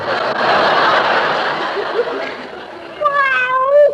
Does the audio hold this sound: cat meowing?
yes